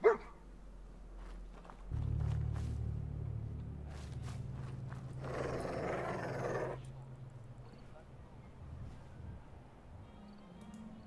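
A dog barks in the Fallout 4 video game, giving a few scattered barks over low game ambience, along with footsteps and a brief rushing burst of noise near the middle.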